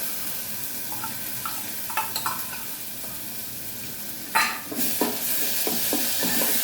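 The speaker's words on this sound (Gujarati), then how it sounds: "આપણે અંદર ટામેટાં નાખી દઈશું અંદર ટામેટા એડ કરી દઈશું" Tomatoes go into a hot pan of browning onion for a green chickpea curry, giving a steady soft sizzle with scattered stirring scrapes and a louder burst of frying midway.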